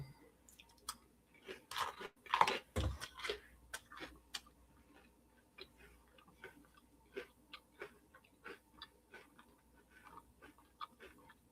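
Close, quiet chewing and crunching of Cinnamon Toast Crunch cereal eaten with strawberry soda water, irregular crisp bites with a louder cluster early on, then softer steady munching.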